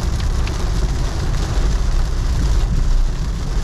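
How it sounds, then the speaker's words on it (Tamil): Heavy rain drumming steadily on a moving Honda City car during a road trip, a loud dense wash with a low road rumble underneath, no voice. "திடீர்னு செம்ம மழை ஸ்டார்ட் ஆயிடுச்சு."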